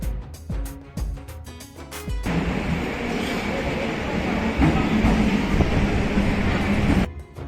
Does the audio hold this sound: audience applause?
no